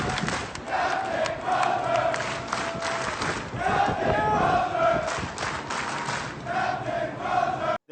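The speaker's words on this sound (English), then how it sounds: "His crew very enthusiastic and cheering for the captain as he was leaving his post" Navy ship's crew cheering and shouting in unison for their departing captain, a loud, rhythmic group chant that rises and falls in repeated waves throughout.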